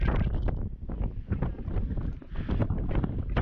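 Strong wind buffets the microphone outdoors around loose livestock, in loud, continuous gusts, rumbling low and steady throughout.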